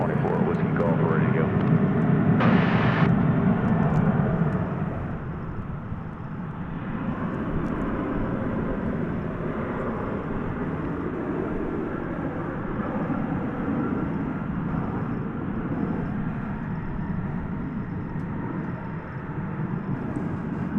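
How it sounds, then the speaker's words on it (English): A Boeing 737-800 airliner takes off at DFW at night, its jet roar steady and fairly distant for about twenty seconds, with someone talking over it. "This is flight 2564, a 737-800 going to Albuquerque, New Mexico."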